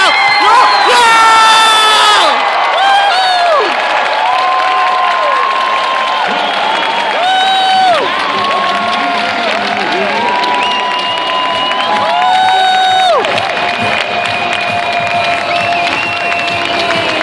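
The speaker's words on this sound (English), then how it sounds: "Everyone was cheering as loud as they can." A rugby sevens stadium crowd roars after Canada scores a try, loud continuous cheering with whoops and high shouts rising and falling over the din, close and sustained throughout.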